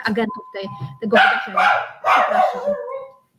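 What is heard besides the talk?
dog barking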